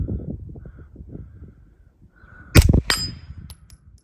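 A Pak-9 AK pistol with a replaced trigger fires outdoors, two sharp, loud reports close together with a ringing metallic tail and a distant crow cawing, after a stretch of quiet ambient rustling.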